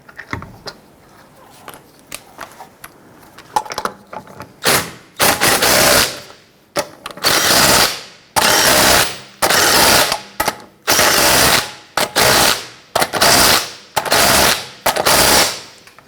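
Lug nuts being snugged onto a rear wheel of a 1999-2004 Jeep Grand Cherokee: light clicking at first, then a run of about ten loud, close, rattling power-tool bursts in a steady rhythm.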